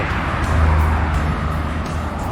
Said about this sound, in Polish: Ale auta jeżdżą, ale ja poruszam się piękną ścieżką rowerową.